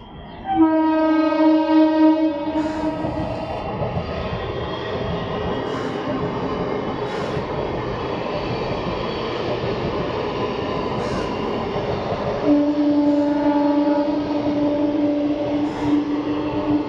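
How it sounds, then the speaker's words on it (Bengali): A metro train passes close by, sounding a loud sustained horn blast at the start and again near the end, with rumbling wheels and rail noise rolling continuously between them. "ওখানে মেট্রো ট্রেন যায়"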